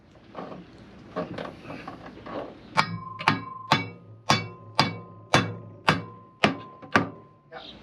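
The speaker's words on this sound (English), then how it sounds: "Can you move the wheel to the port side just a little bit so I can hammer?" Repeated metal hammer blows on a boat wheel being worked at the port side: about nine sharp, ringing clangs at a steady beat, close and loud, following a stretch of muffled background activity.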